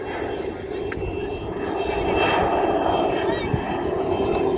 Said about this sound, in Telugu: దాని హెలికాప్టర్ చాలా కింద నుంచి పోతోంది